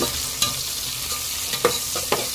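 Onions sauté in a hot pan for a spinach sambar, giving a steady close sizzle broken by three quick scrapes of a spoon stirring them, with no voices.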